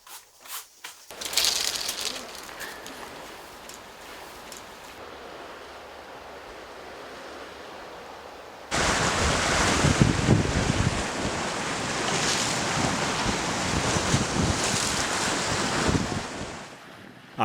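Strong sea waves surge and crash off Sasudo, a small uninhabited island south of Chujado, with wind buffeting the microphone; a quieter stretch of surf gives way to a loud, sustained roar of breaking water.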